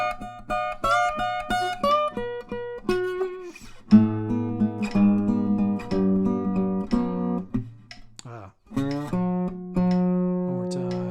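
Acoustic guitar playing a song intro in its original open tuning at a slow 60 bpm, clear plucked bass notes and ringing chords in a steady rhythm, close and alone without speech.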